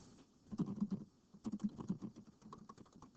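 Keys tapped on a computer keyboard while a folder name is typed, two quick bursts of close, light clicks separated by a brief pause, with no talking.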